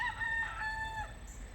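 A rooster crows once in Hawaii, a clear, moderately close cock-a-doodle-doo with bright harmonic tones over a low rumble of background noise, with no talking.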